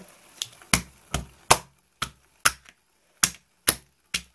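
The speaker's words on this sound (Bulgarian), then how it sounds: "И така щупихме балон." A balloon frozen solid in liquid nitrogen being broken apart, heard as a series of about nine sharp, cracking impacts spaced unevenly, close and loud against near silence.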